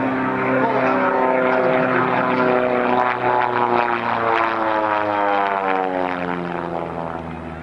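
A propeller airplane roars past at full power during a 1995 air show at Fairchild Air Force Base, its loud engine drone with steady harmonic tones sweeping gradually lower as it passes and fades slightly.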